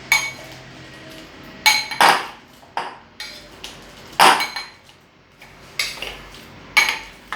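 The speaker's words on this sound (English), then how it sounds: "we're going to mash our bananas. So you take a masher or a fork, whichever one you have, and mash it" Bananas being mashed with a masher or fork in a bowl: a series of sharp clinks and taps of metal against dish, irregularly spaced and fairly close, with no talking.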